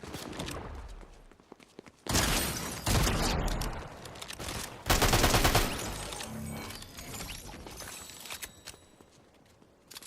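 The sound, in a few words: shotgun firing in the Fortnite video game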